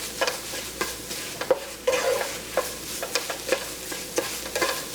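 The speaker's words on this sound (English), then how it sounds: "I just stir until it's a uniform color" Tofu scramble stirred in a hot pan, a steady frying sizzle broken by repeated scraping strokes of a utensil against the pan, close and fairly loud throughout.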